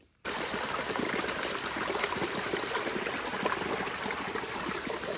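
Steady trickling and rushing of a small stream at a backcountry trail water source in Southern California, continuous and fairly close, with no voices.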